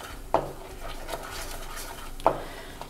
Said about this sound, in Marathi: आता हे आपलं मिश्रण ढवळून झालेलं आहे.